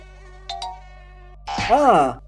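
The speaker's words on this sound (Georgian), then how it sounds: "როგორც ჩანს, სახლში კოღო შემოვიდა." A mosquito buzzes indoors in a house during cold weather, a thin whining drone that wavers in pitch and loudens up close near the end, with a brief sharper sound just before it.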